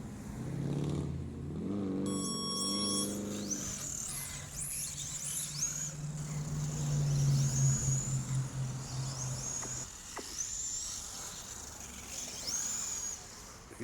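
Small RC cars in a Grom race at an RC store track whine and rev at high pitch, rising and falling as they speed around, with a buzzy motor hum underneath; moderately distant, no talking.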